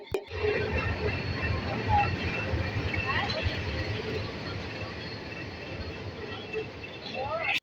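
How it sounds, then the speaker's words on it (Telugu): A train rumbles steadily alongside a platform, a continuous low roar with a murmur of crowd noise beneath it. "ట్రైన్ విజయవాడలో నుండి స్టార్ట్ అవుతుంది కాబట్టి ప్లాట్ఫామ్కి మేము వెళ్ళిన 5 మినిట్స్కి వచ్చేసింది."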